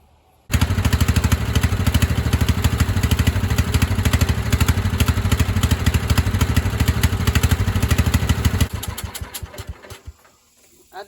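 A 1997 Craftsman lawn tractor with a 16 HP Kohler Command engine starts and runs loud and close with a steady rapid putter, then sputters unevenly and dies near the end as it runs low on fuel.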